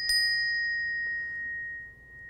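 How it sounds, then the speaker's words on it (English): A Balinese bell struck once with a bright ding, then a pure resonant tone that rings on steadily and slowly decays, with a faint second tap midway and no voices. "here's the Balinese bell"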